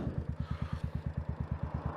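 A Royal Enfield Meteor 350 with a Red Rooster exhaust, baffle removed, idles close by with a loud, raw, throbbing exhaust beat, evenly pulsing about eight times a second without letting up.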